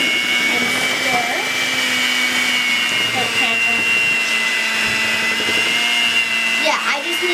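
An electric hand mixer runs on low speed through cookie dough, a steady close motor whine with occasional scraping bumps, while people talk quietly under it.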